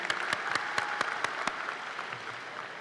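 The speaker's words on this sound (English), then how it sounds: "Y'all give them a round of applause too," A high school graduation audience claps in a steady crowd applause, with a few sharp, close individual claps standing out at first before the sound settles into an even patter.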